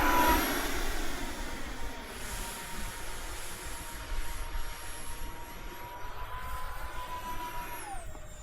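3D printed RC F-22 Raptor model jet flying under throttle, a continuous whining drone with a steady tone that drops in pitch near the end as it passes, heard alone at moderate distance.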